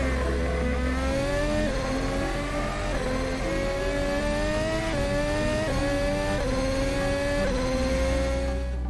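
Racing car engine sound from a full driving simulator rig, loud and continuous, rising through repeated revs with upshifts stepping the pitch down, no talking.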